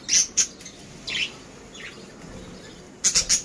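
Pet budgerigars in a colony cage chirp in short, bright bursts, a few quick calls at the start and a tight cluster near the end, with a softer call in between.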